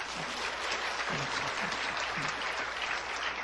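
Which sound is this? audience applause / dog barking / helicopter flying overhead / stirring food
audience applause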